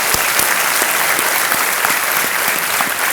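Studio audience applause on a Hindi television quiz show greets a contestant and her husband, a steady, dense wash of clapping that stays loud and even throughout, with no voices over it.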